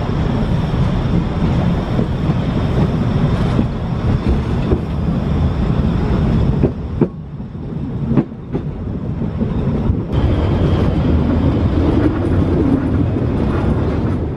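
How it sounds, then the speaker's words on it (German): A narrow-gauge Weißeritztalbahn train rumbles steadily toward Kipsdorf, close and loud, its wheels clattering over rail joints in a continuous roar with a few sharp clicks around the middle. "Mit einem der bis nach Kipsdorf durchfahrenden Züge geht die Fahrt weiter."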